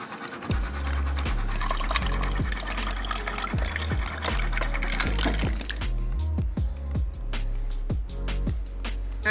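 Water is poured into a container close by, a steady gurgling fill punctuated by clinks and small knocks, with no one talking.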